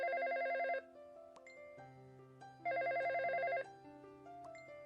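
A landline telephone bell rings in two long electronic trilling bursts, loud and close, separated by a pause, with a cartoon household's soft background music continuing beneath and no one answering.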